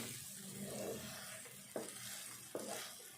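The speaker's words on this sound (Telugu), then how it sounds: "ఈ బోడకాకరకాయ ముక్కలు ఇట్లా కలుపుకుంటూనే ఉండాలి." Spiny gourd pieces frying without water in a pan hiss with a continuous sizzle while a spoon stirs them, with two distinct scraping knocks against the pan, close and quiet.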